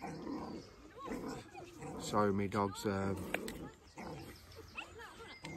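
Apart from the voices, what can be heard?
dog growling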